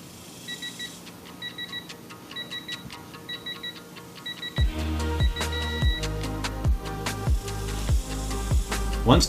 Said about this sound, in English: Once the beep and the LED remain steady, we have reached the indicated torque.